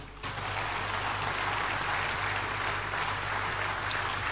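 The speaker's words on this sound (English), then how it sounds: "Somebody clap for Jesus." An audience breaks into sustained applause, a dense steady clatter of many hands clapping that continues throughout.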